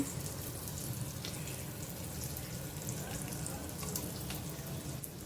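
Potato slices coated in rava shallow fry in oil in a pan, a faint, even, continuous sizzle with a soft watery hiss throughout and no talking.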